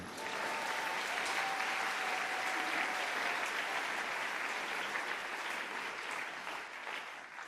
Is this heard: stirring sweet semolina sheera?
no